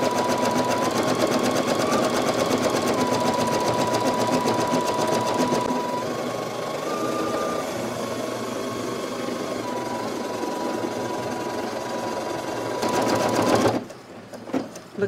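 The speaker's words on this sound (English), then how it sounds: "I have not slowed the machine down at all." A Brother NQ3700D sewing machine stitches at full speed with a standard pre-wound bobbin and a 75/11 needle, giving a loud, steady, rapid mechanical chatter with slight pitch shifts that stops abruptly near the end.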